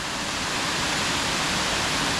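Rutledge Falls in Tullahoma, Tennessee roars as a loud, continuous broadband rush of falling water, steady and close with no voices.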